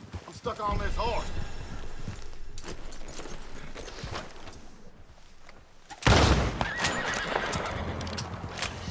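A horse in Red Dead Redemption 2 neighs loudly near the start, with clip-clop hooves and galloping, then a sharp burst of action noise midway; someone talks over the game sounds.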